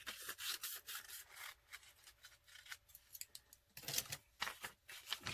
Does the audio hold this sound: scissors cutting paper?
yes